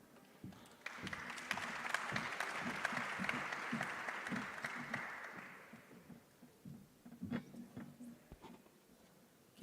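Audience at a high-level trade event on women and trade claps for an arriving speaker, the applause swelling for several seconds, then fading into scattered claps and a few thumps and footsteps.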